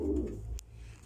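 German Owl pigeons give a low, soft coo, close by and brief, followed by a faint click in the loft.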